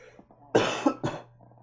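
A couple of sharp, close coughs in quick succession, loud against a quiet room with a low steady hum underneath.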